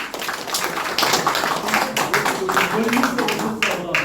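A church gathering gives applause after a pastor's talk, a burst of clapping from a crowd mixed with a speaking voice over a microphone.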